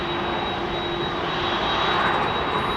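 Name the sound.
jet airliner engines at Heathrow Airport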